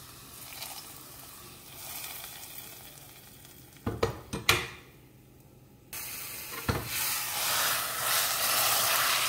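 Curry leaf tempering poured into a prawn and raw mango curry, erupting into a loud sizzle after a few sharp clatters, briefly dropping away, then returning as a steady, intense hiss that keeps building.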